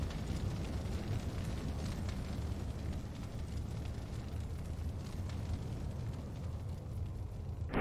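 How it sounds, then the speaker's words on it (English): Fire roaring steadily in the motorbike game Trials Fusion, a loud continuous rumbling burn with crackling texture that holds throughout without any talk. "Lots of fire."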